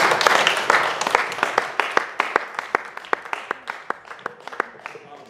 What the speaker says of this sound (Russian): Аплодисменты Богу.